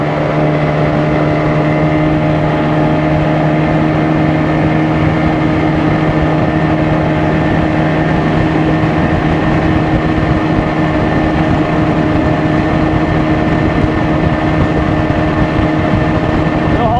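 A 1990 Johnson 20 hp outboard motor drives a small boat at speed during a propeller pitch test, making a loud, steady, unbroken engine drone with wind and water noise.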